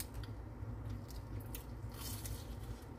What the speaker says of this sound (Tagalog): crunchy the outside, soft inside.